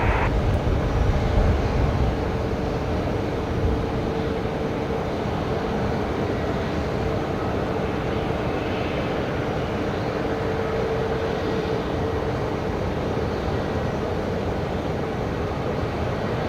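Steady broadband roar of a Cathay Pacific airliner on landing approach to runway 19 right at Brisbane Airport, loudest at the start and then holding a constant, distant-sounding rumble with no talk.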